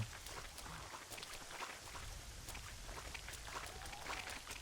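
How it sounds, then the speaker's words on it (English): Steady rainfall in Red Dead Redemption with scattered drops pattering on surfaces, fairly faint and continuous throughout, with no voices. "It kind of sucks that it's raining."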